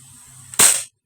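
A single sharp crack from a KJW KP11 CO2 airgun shooting metal BBs, bursting out of a quiet background with a brief hissy decay lasting about a third of a second.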